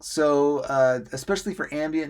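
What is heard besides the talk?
None of the usual background noises is heard.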